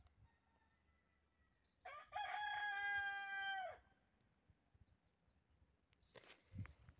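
A farmyard rooster at a rural Kabyle house gives one clear, full cock-a-doodle-doo near the start, followed by quieter ambient shuffling and a brief rustle.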